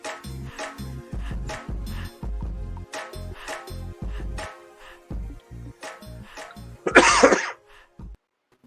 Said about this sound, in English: And he's in with a cough.